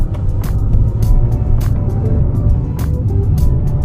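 An automatic car driven in manual Tiptronic mode holds second gear while the engine accelerates, giving a loud, steady, close engine rumble throughout with no talking.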